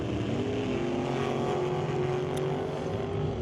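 NHRA Top Comp drag race cars at a Northwest National Open Series race roar off the starting line, a loud, sustained engine drone holding steady through the launch with no talk over it.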